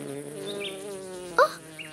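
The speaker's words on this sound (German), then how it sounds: "Eine Biene! Beweg dich nicht, Lilly." A cartoon bee buzzes with a steady droning hum at close range. It is heard alone, with a brief chirpy accent partway through.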